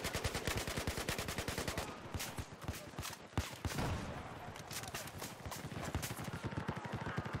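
QBB-95-1 light machine gun from Battlefield 4 firing rapid sustained bursts, dense evenly spaced shots rattling close and loud, with a short pause and a few spaced rounds before fully automatic fire resumes.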